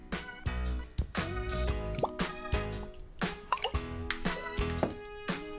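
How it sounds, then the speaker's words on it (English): Oil drizzled onto chicken skin, heard as a run of close, irregular drips and wet plops, fairly loud and alone, with no talk. "I need a little more oil just on the chicken skin."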